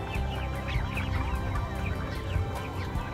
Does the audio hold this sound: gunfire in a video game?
no